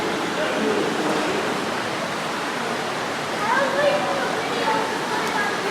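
Water flows steadily inside Howe Caverns, a constant rushing hiss in an enclosed cave, fairly loud and continuous throughout.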